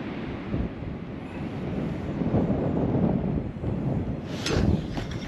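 Strong wind buffets the microphone out on the ice while ice fishing, a steady loud rumbling roar with gusts that swell and fade, and no talk.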